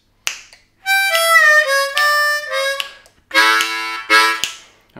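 A harmonica plays the second half of a lick, a quick series of bright, wavering notes and bent phrases in two bursts, close and loud, with a few sharp clicks or taps between.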